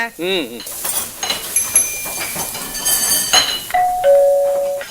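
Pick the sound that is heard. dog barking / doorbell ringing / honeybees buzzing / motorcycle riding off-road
doorbell ringing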